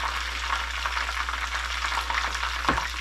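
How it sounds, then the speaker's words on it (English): Oil crackles and sizzles steadily as chicken fries, a continuous close hiss with small pops throughout and one louder clatter near the end. "You can hear the crackling of the oil in the background."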